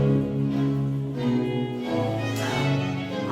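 Baroque orchestral music with a violin carrying a flowing melody over sustained lower strings, moderately quiet and steady.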